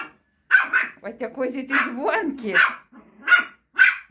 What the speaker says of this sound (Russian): Вот так, гав-гав, гав-гав.